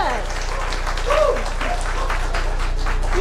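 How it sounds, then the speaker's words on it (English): Students applaud themselves after a judged presentation. The steady clapping runs under voices talking over it. "Okay, so clap for yourself."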